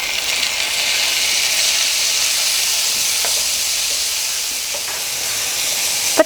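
Sliced large tomato fries in a pan while making a country-chicken egg drop curry, giving a steady loud sizzle and hiss with faint stirring clicks throughout, no voices.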